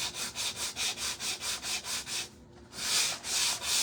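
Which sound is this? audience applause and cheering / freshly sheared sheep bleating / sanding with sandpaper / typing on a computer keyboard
sanding with sandpaper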